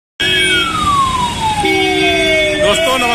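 An ambulance siren wails loud and close in a congested traffic jam in Darbhanga, Bihar, a long falling tone sweeping down over steady background traffic noise.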